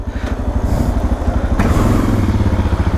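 Suzuki DR650 dual-sport motorcycle engine running roughly up close, a loud, uneven single-cylinder thumping with rapid pulsing beats and clattery knocks.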